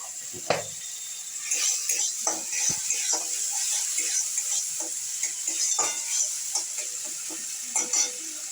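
Spices with turmeric and salt sauté in a pan, a constant bright sizzle broken by repeated scraping and tapping of a spoon against the metal as the mixture is stirred.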